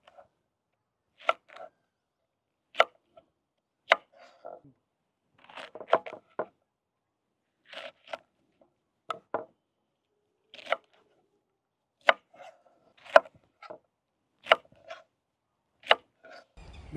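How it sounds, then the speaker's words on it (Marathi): Okra being sliced with a knife on a board for dahi bhindi masala, sharp isolated chops spaced about a second apart, some in quick clusters, close and clear against a quiet background. "आपण आता भाजीसाठी भेंडी कट करून घेऊ।"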